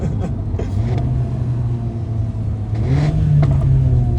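A Mercedes-AMG A45 engine droning steadily while driving, the pitch climbing as it accelerates, heard from inside the car with a rumbling, near tone.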